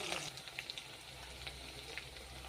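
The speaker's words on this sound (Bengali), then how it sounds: "ডুমো করে কেটে রাখা আলুগুলো দিয়ে দিলাম, সামান্য ভেজে তাতে আদা ও জিরে বাটা দিয়ে দিলাম" Diced potatoes fry in a pan with ginger and cumin paste and turmeric, a soft continuous sizzle with light crackles and faint stirring taps, heard alone.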